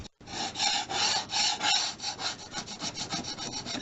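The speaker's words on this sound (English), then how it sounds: "Paint scraper here, I'll just go along the edge of the road, scraping that off." Paint scraper rasping along the edge of a model railway road surface in quick repeated back-and-forth strokes, close and clear with no voices.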